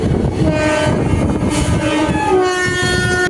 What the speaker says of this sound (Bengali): গড়বেতা স্টেশন থেকে ট্রেন ছেড়ে দিয়েছে